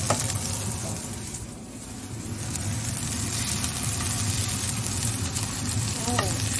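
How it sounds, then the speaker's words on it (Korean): Olives sizzle and fry in a hot pan at home, a steady close crackling hiss lasting throughout, with faint clinks of stirring and a voice briefly audible in the background. "올리브 구우니까 더 노릇노릇 맛있게 보인다"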